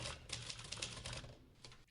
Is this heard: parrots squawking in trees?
no